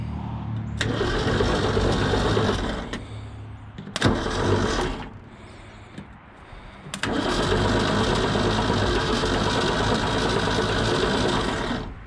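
A 1966 Ford F-100 4x4 engine cranks over on its starter in a loud, steady rhythmic churn, broken by two short pauses before cranking resumes and continues to the end.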